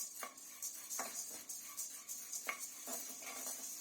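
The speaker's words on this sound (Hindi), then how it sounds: "अब आप दाल की आवाज़ चेक करें कि कैसी खनक इसमें पैदा हो गई है।" Chana dal dry-roasted without oil being stirred in a pan, giving a series of crisp, irregular rattles and clinks, close up and moderately loud, with no voices.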